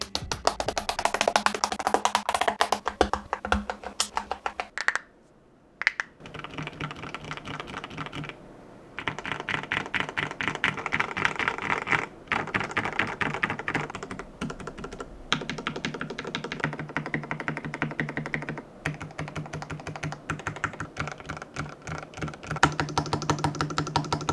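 A budget mechanical keyboard fitted with a tape and fabric mod is typed on continuously, producing dense, close, rapid clacking with a few brief pauses and no voices.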